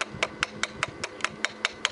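Sharp metallic taps of a hammer chipping slag off a weld strike in a steady rhythm, about ten evenly spaced hits over two seconds, close and crisp, with no voices.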